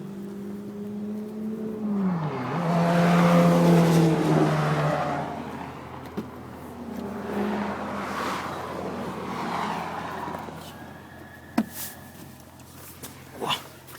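A Ferrari 458 Italia drives on the Circuit JP Beltoise, its engine note rising and falling through gear changes from inside the car, with a few sharp clicks near the end.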